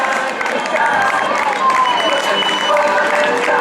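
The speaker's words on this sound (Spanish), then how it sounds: "Venga ese aplauso. Vamos, aplauso." Sustained crowd applause at a popular running race in Meaño, steady and loud throughout, with scattered cheers mixed into the clapping.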